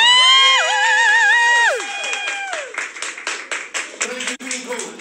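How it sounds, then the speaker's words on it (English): A poetry showcase crowd at Matthews Yard breaks into applause, with loud, dense clapping and a few whoops that rise and fall, preceded by a brief high, wavering tonal flourish. "give me a round of applause"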